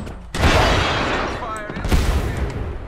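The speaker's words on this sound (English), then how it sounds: "that's a grenade!" A grenade explosion in Apex Legends, a sudden loud close blast with a long rumbling decay and a second thump, with someone talking over it.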